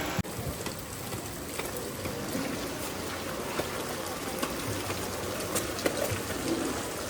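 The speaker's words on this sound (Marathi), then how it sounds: "पाऊस काय थांबत नाही आपला" Steady, dense rain pours down on an outdoor Independence Day rally, a constant broadband patter with scattered sharper drops hitting surfaces throughout.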